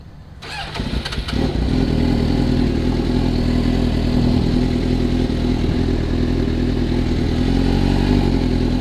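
A motorcycle engine starts with a brief clatter, then settles into a loud, steady, close-up running rumble that continues without a break and with no speech.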